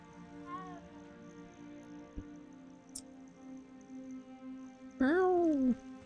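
A cat meows as it is petted in the video game Hogwarts Legacy: a soft, brief mew near the start, then one louder, drawn-out meow close up near the end, over a quiet game-music hum.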